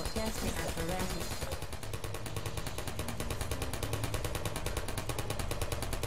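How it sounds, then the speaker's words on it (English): Rapid automatic gunfire from turrets in Portal, a dense, even burst of fast repeating shots that carries on steadily and loudly after some mixed game noise at the start. "Who is shooting?"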